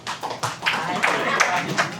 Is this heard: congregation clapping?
yes